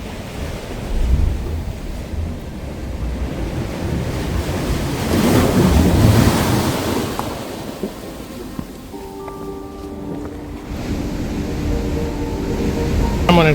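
Sea waves surge and wash against a seawall along a coastal path with rocks, a steady roaring swash with wind rumble that swells in the middle; a faint tonal beep cuts in near the end.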